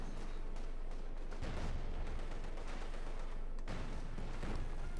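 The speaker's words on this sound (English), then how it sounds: "Looks like a cannon effort and a mortar again" Cannon and mortar fire from the strategy game Company of Heroes 2 booms in heavy rolling blasts, with a couple of sharp impacts over a dense battle rumble, loud and without speech.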